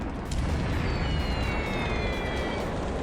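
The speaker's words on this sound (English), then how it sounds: "they do manage to put a bomb in one of these transport ships" A bomb strikes a transport ship in a Pacific naval war strategy game, a dense, roaring blast of broadband noise that holds steady for about three seconds after a brief quiet start, with faint high whistling tones drifting over it.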